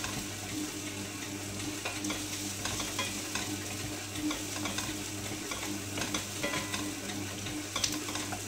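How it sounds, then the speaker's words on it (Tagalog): Onion and garlic sizzle steadily in hot oil in a pan, a constant low frying hiss with occasional soft stirring scrapes, heard alone at moderate volume. "gisahin na natin. Pinagsabay ko nang ilagay yung onion at saka garlic."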